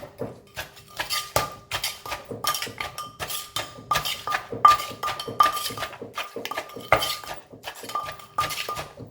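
Thai green bean salad (tam tua) being mixed with sugar, a spoon clinking and scraping steadily against a bowl in close, rapid repeated strokes with no talking.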